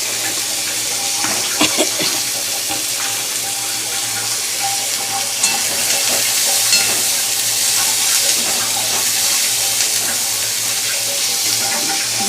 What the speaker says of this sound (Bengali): পেঁয়াজ দিয়ে দিই।